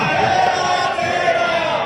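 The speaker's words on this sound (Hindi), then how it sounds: "इसलिए जोरदार नारा कि देखो देखो कौन आया, शेर आया, शेर आया" A political rally crowd loudly chants a welcome slogan hailing an arriving leader as a lion. Massed voices roar in unison, close and sustained throughout, with no pause.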